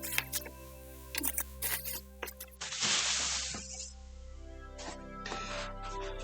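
A ceramic Shadow of the Tomb Raider mug is unwrapped from bubble wrap, close up: crinkly plastic rustles and crackles in irregular bursts, then a longer loud rustle of sliding wrap, with quiet pauses between handling noises.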